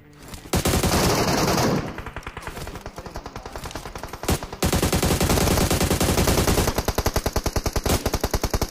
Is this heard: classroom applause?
no